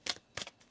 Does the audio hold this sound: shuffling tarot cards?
yes